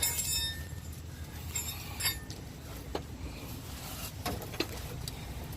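A wrench clinks against metal car parts beneath a DeLorean while an O2 sensor is reached near the fuel filter and cross member, several sharp, scattered metallic taps over a low background rumble.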